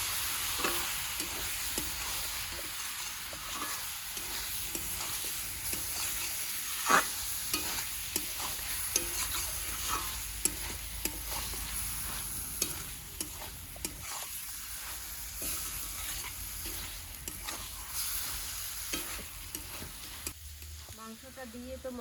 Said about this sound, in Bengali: আর একটু মশলাটা দিয়ে মাংসটা দিয়ে কষিয়ে নেবো।